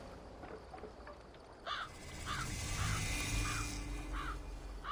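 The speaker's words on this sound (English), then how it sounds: "crows gather again over Paris" Crows caw over Paris during a siege in Assassin's Creed Valhalla, about five harsh calls spaced roughly half a second apart against steady wind and low rumbling ambience.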